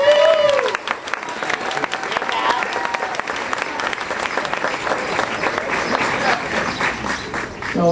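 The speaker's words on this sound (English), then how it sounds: "Give them a round of applause." A crowd applauds Everest climbers gathered on a step, with a dense, steady wash of clapping that stays loud throughout, plus a brief voice at the very start.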